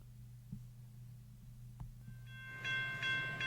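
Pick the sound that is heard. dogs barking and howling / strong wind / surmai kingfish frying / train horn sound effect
train horn sound effect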